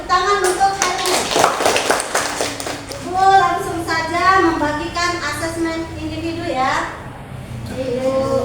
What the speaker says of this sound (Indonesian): Tepuk tangan untuk Heru.